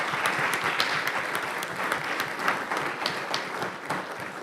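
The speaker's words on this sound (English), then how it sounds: "So let's give them a round of applause." An audience applauds teachers and staff honored for 25 years of service at a school board meeting, with sustained even clapping from a moderately sized crowd filling the room.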